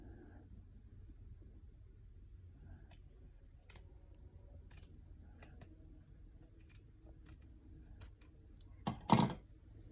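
Scissors snip through sock fabric to shape floppy bunny ears, a scattering of faint, close clicks and cuts over a quiet room, with one louder burst of snipping near the end.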